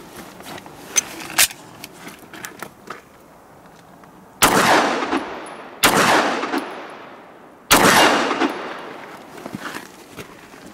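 Light handling clicks and rattles, then three loud, sharp 9mm shots from an HK VP9 pistol spaced a second or two apart, each ringing out with a long decaying echo at an outdoor range.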